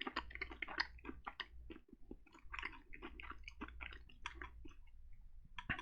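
Crunchy dark chocolate covered almonds being chewed close up, with a steady run of crisp crunches and wet mastication clicks throughout, no talking.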